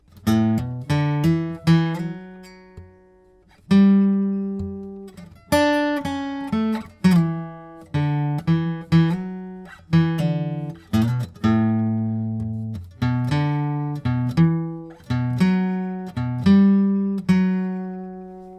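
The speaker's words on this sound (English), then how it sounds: "So in total, the lower octave solo sounds like this." A single guitar plays the lower-octave solo line of a song, fingerpicked notes ringing out one after another in a steady, close, clear melody with no voices.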